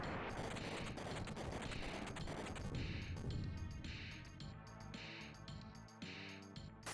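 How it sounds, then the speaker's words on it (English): Overlapping explosion effects in the Seiken Densetsu 3 video game: a dense burst of crashing noise followed by a series of rhythmic, repeated blasts mixed with game music. "He has two different explosion animations that overlap on each other"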